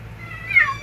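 About two-week-old, underweight kittens give one brief, thin, high meow, faint and close, over a quiet low background hum.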